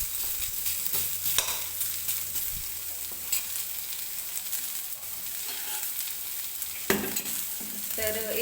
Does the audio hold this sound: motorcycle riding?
no